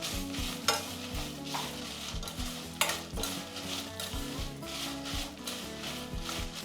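Fenugreek and mustard seeds fry in oil in a pan for a gongura chutney, giving a steady sizzle with scattered crackles and repeated scraping stirs of a spoon against the pan.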